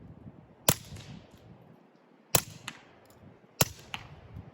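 Three sharp, muffled cracks from a Smith & Wesson 22 Compact pistol firing .22 rounds through a Rugged Mustang suppressor, evenly spaced about 1.5 seconds apart, each followed by a faint metallic clink of the action.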